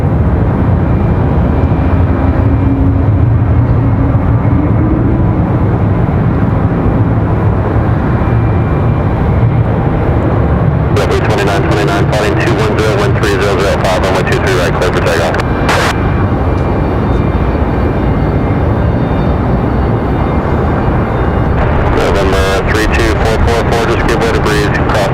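A JetBlue airliner departing Raleigh-Durham International for San Juan, Puerto Rico, sends a loud, steady broadband jet roar that holds throughout, with bursts of crackly noise layered on top partway through.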